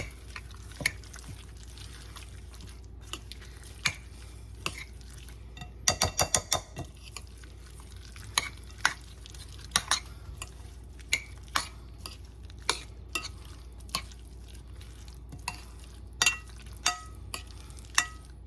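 Pea and ham salad being stirred with pepper in a bowl, quiet and close, with a steady run of light clicks and taps of a spoon against the dish and a brief cluster of quick scrapes partway through.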